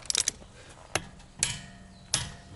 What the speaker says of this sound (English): so I'll torque this down to 80 foot-pounds